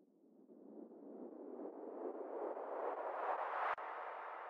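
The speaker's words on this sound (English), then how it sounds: "I also put in this category risers, like for example, this white noise riser." A white noise riser effect for a psytrance track, a broad hiss that swells and brightens steadily over several seconds before a brief dropout near the end.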